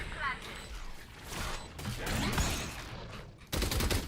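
Rapid gunfire and mechanical clatter from a competitive shooter video game match, dense repeated bursts over a noisy background, with a sharp loud volley near the end and talk mixed in.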